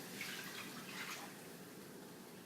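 Water pours from a container into a large skillet for boiling green beans, a short close splash that tapers off after about a second.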